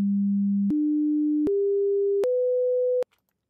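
Pure sine tones step upward one after another, each held steady for under a second, in four rising pitches that outline the intervals of a chord, clean and continuous before stopping abruptly.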